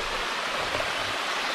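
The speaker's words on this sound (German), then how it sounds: "War nur der Wasserfall." Wedenbach tufa stone waterfall in the Schauertal near Streitberg, a steady close rushing and splashing of falling water, even and continuous with no voices.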